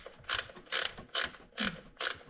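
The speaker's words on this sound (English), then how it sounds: "a little wrench, 10 millimeter ratchet wrench." A 10 mm ratchet wrench works bolts on the radiator of a Honda Goldwing GL1500 motorcycle, giving five close, evenly spaced bursts of rapid ratcheting clicks, each about a third of a second long, with no talk.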